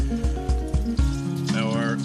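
Water is poured into an MSR Titan kettle that holds 850 ml. A short rushing splash rises near the end, after a rhythmic musical beat, with no speech over it.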